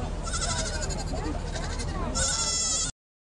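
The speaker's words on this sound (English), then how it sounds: "Ian White, you're a pygmy goat judge." Pygmy goats bleat several times in quick succession at an agricultural show, loud and close, with a faint hum of the showground behind them.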